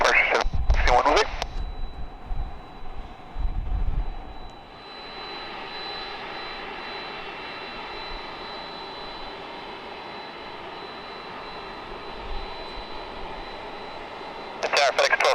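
A FedEx heavy jet takes off at San Diego, its engines a steady distant roar and whine. Radio chatter from the tower crackles at the start and the end.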